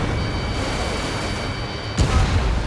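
A destroyed enemy vessel explodes in the jet combat game Ace Combat 7 with a sudden deep boom that cuts through loud, steady jet and wind roar, followed by a rumbling low tail.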